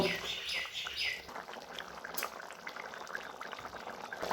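An egg and potato curry with fried eggs simmers in a pot with soft, steady bubbling, heard faintly under a person talking, with bird chirps in the background.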